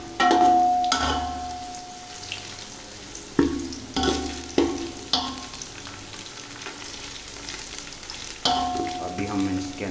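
Garlic, onion and mixed spices fry in hot oil in a pan, a continuous loud sizzle broken by repeated scraping strokes and metallic clinks of a spoon stirring, with no voice.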